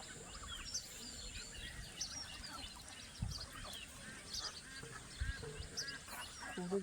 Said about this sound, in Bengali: আর হাঁসটি দেখুন রাজাস কত সুন্দর লাগে